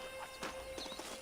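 Horse hooves clip-clopping in the Western game Red Dead Redemption, a few quick, faint hoof thuds over a steady low game background hum.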